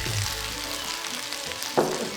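Eggplant hits a hot pan with onions and potatoes for a vegan curry and sizzles steadily, a close bright frying hiss with a brief clatter of stirring near the end.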